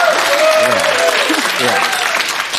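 A talk-show studio audience claps loudly and continuously, a dense wash of many hands that runs under overlapping speech and cheering voices for a few seconds.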